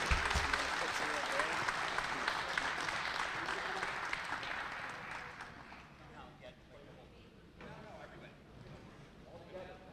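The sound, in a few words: applause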